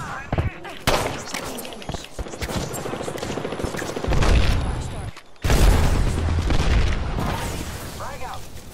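In Apex Legends, an Arc Star grenade bursts amid rapid bursts of gunfire, with loud booming hits and crackling shots clustered through the fight, a brief lull near the middle before another heavy burst.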